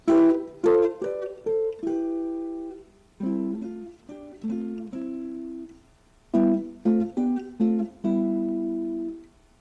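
A guitar plays a run of three-note triad chords, some plucked quickly and others left to ring, in short groups separated by brief pauses. No voices.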